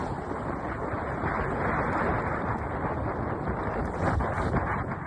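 Strong wind buffets the deck of a sailing ship at night, a loud, steady roar with rushing gusts and faint water sounds beneath, no voices.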